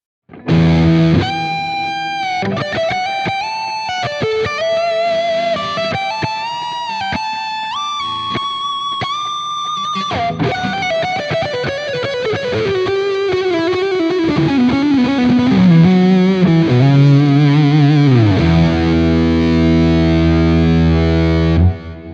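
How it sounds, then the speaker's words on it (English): Electric guitar through a Fuzz Face and reverse delay on a Quad Cortex, playing a sustained, rising melodic line, notes smearing into swelling delayed echoes, then sliding down in a thick, saturated tail. "And then I'm throwing on the front this fuzz face."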